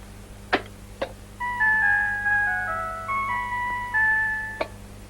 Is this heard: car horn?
yes